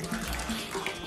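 Cold water runs and splashes steadily for a brief moment as it is poured into a bowl of garri.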